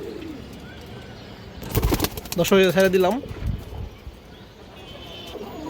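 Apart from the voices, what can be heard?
pigeons cooing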